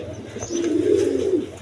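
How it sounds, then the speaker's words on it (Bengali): A pair of pigeons kept with their two squabs, cooing in a soft, rolling low murmur that swells through the middle and trails off, close by with faint background noise and no talk. "এইখানে এক পেয়ার কবুতর আছে, দুইটা বেবি সহ।"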